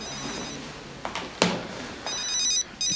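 A phone ringing indoors, an electronic ringtone that chirps in short bursts and then rings steadily, close and clear over a faint scuffing handling noise.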